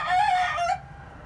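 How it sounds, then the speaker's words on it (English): A single short rooster crow, loud and close, ending abruptly after under a second, followed by quiet. "And our rooster hears him and he's answering."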